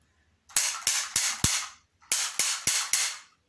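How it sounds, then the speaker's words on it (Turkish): A toy cap gun fired with its tip attached gives eight sharp, loud cracks, close up: a quick run of four, a short pause, then four more. "Bakın arkadaşlar silah bunun için takınca daha güzel ses çıkıyor."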